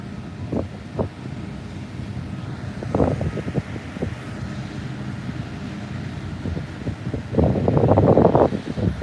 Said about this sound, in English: It is a little windy out here.